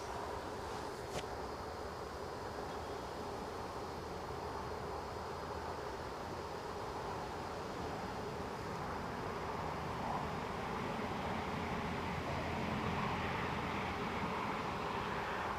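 Boeing 777 airliner near the runway at Newcastle airport, a steady distant broadband jet engine roar that holds evenly and swells slightly toward the end, no voices.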